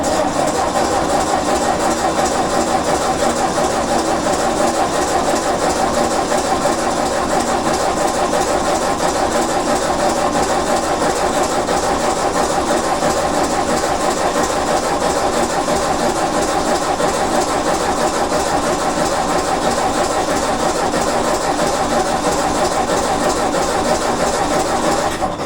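A 1957 Ford tractor engine cranks steadily without catching, a continuous rough mechanical churn held at an even loudness throughout, with no voices over it.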